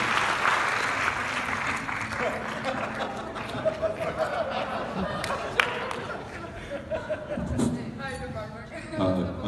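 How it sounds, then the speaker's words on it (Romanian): A premiere audience for a film applauds, dense clapping mixed with crowd chatter and occasional laughter, then thinning as voices and a microphone handling noise come through near the end. "să-i aplaudăm"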